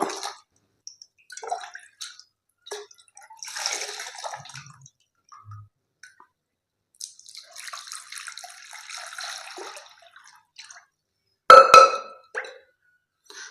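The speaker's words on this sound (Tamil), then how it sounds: "ஒரு லிட்டரு ஊற்றிருக்கு." Water is poured into a stone kalsatti kadai to measure it, heard as intermittent splashes and trickles in quiet surroundings, then a sharp, loud clink near the end.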